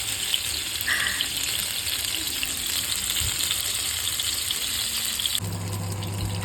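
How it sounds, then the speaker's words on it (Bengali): Hilsa fish frying in mustard oil with dried chillies: a steady, loud sizzle and crackle of hot oil running throughout, with a brief clink near the end. "আগে একটু শুনে নিই ভাজার আওয়াজটা।"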